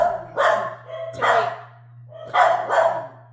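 A dog barks in four loud, close bursts in pairs, with a gap between the pairs, over a steady low machine hum in a room where tumblers are being laser engraved.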